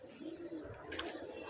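A pigeon in a dovecote gives a soft, low coo, faint and brief in a quiet morning setting.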